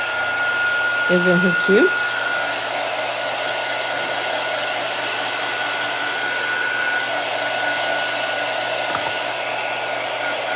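Steady, loud hair dryer whoosh aimed at a freshly painted farmhouse tray, a continuous airy roar holding nearly level throughout, with someone briefly speaking over it near the start.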